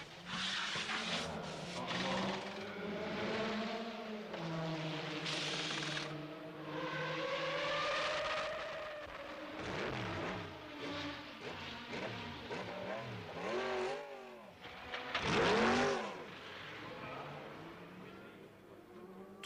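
Race cars at the 1991 Le Mans 24 Hours, including Sauber Mercedes, with high-pitched engines whining past and rising and falling in pitch, and a louder close pass near the end, all under a commentator's voice.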